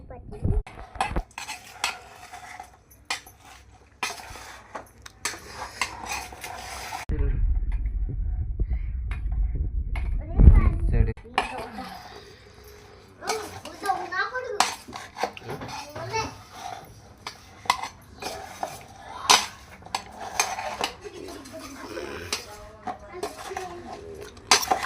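Mango pickle (magaya) being mixed from the bottom up in a pot, with repeated scraping and clinking of a spoon against the vessel and voices talking nearby, including a child.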